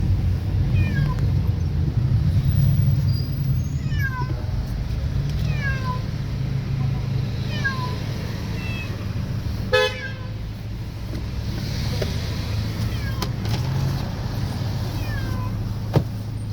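Cats meow repeatedly, many short mewing calls scattered across the scene, over a constant bed of road traffic with occasional car horn toots.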